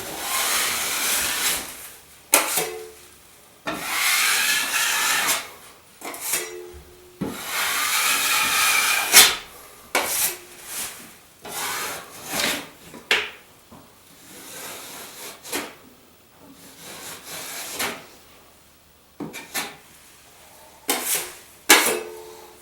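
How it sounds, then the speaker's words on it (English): Drywall knife scraping excess joint compound off walls, giving repeated scraping strokes in bursts with short pauses between them, close and fairly loud, with no talking. "Clean all your excess mud off the walls."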